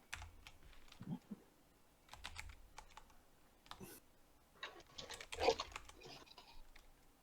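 Rapid clacking of a computer keyboard as someone types chat messages during an online Dungeons & Dragons server session, bursts of keystrokes with short pauses, close and moderately quiet, no talking.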